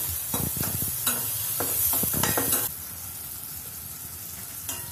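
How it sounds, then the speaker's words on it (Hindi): Chopped tomatoes sizzle in hot oil and are stirred in a pan for dal tadka, with several close utensil scrapes and clinks over a soft frying hiss that quietens partway through. "उसमें डालेंगे टमाटर, टमाटर को हमें थोड़ा सा सॉफ्ट करना है।"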